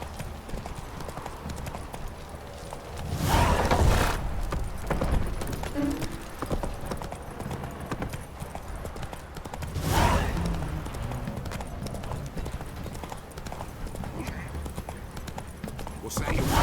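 Roach, the horse in The Witcher 3, gallops with steady clip-clop hoofbeats throughout. Two louder bursts of hoof and rider noise stand out along the way, and a voice speaks over the riding.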